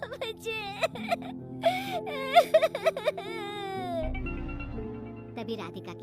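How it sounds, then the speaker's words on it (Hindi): A girl sobs and wails in a domestic scene, with breathy whimpers, gasps and rising, quavering cries that come in uneven bursts, close and fairly loud, trailing into a sustained moaning tone near the end. "उसके रोने की आवाज से पूरे घर में शोर मचा पड़ा था।"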